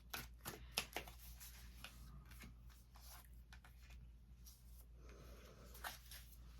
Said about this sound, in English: I'm going to give a couple more shuffles